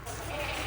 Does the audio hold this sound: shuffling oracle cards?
no